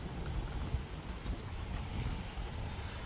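Steady rain falling outdoors, a dense even hiss of drops on surfaces that stays constant and moderately close throughout, with no voices.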